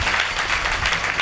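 A crowd at a devotional kirtan during a Harinam Saptah gathering bursts into loud, dense applause, steady clapping close and full throughout.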